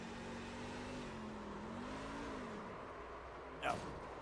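A racing truck's engine on an oval track at the River City 250 produces a steady, loud drone that rises and falls in pitch, with a brief sharp burst near the end and faint talk underneath.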